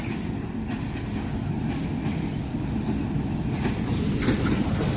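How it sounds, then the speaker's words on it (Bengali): A local train on the Rajshahi to Kushtia line rolls into a station with a steady, loud rumble and a rhythmic clatter of the wheels that holds through the whole stretch, with no voices over it. "ট্রেন চলে আসছে।"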